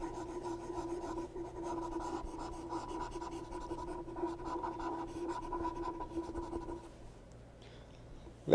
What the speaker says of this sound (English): Let me erase these.